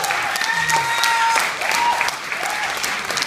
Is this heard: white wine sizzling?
no